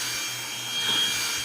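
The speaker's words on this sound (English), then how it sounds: "Onson hand vac for the win." An Onson handheld vacuum cleaner runs with a steady, fairly quiet whine and airy hiss over a short stretch, swelling slightly as it sucks up salt and crumbs.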